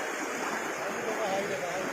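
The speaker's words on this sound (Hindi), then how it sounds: "पानी का फोर्स इतना ज़्यादा है" Strong floodwater surges knee-deep along a river during heavy-rain flooding in Bihar, a steady, close, dense rushing roar with no pauses throughout.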